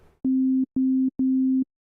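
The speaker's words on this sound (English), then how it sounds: "that literally just makes the sine wave have a lower tone to it" A synthesizer sine wave set to a low filter preset, three steady low hums of equal pitch in a row separated by short gaps, loud and clean, alone.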